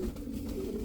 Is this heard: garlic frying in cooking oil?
no